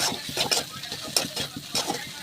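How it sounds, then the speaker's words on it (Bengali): Chicken fries in a pan with a light sizzle under repeated scraping and clinking strokes of a utensil, a quick irregular rhythm of stirring and lifting the pieces. "এরকম আমার চিকেনটা ভাজা হয়ে গেছে, এবারে তুলে নেব।"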